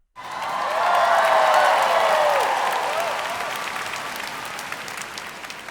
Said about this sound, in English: And the bystanders have been cheering.